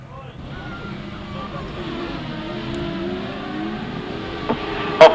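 Grasstrack racing sidecar engines revving and accelerating away at a race start, a rising distant drone of several machines that builds steadily, with an announcer talking over it.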